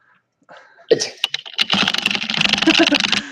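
Rapid clicking on a computer keyboard, a fast burst of dense keystrokes that starts abruptly after a short quiet moment and keeps up loud and close to the end.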